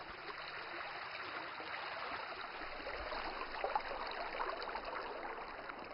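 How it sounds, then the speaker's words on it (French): A small stream running through fields in farmland showing signs of drought, fed by the Rotrong river: a faint, continuous, even trickling wash with no other clear sounds. "L'eau de ce ruisseau, qui murmure joyeusement à travers champs"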